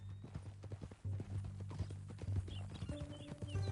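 Horse hooves clip-clop in a steady rhythm in the Red Dead Redemption II video game, close and fairly loud, with low rumbling game ambience underneath and a few brief higher sounds.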